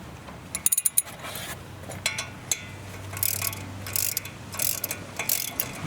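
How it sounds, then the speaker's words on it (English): A socket wrench ratchets in quick rapid clicks, then slower intermittent clicking and metallic creaks as bolts are turned into the threaded holes to push a stuck brake rotor off a Toyota or Lexus, close and fairly quiet, no talking. "And now we'll use this socket."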